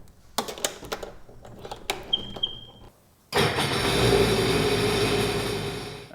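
Sea-Doo jet ski engine during an oil change, a few clicks and cranking bursts followed by the engine catching and settling into a loud steady close running roar.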